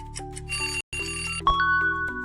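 A bright, metallic bell-like chime used as a quiz sound effect rings loudly and close, with sustained ringing tones, a brief cutout, then a higher ding near the end.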